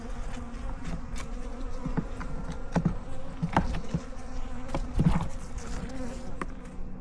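Honeybees buzz steadily around an open beehive in a backyard yard, a close, continuous insect drone with brief louder passes as individual bees fly near.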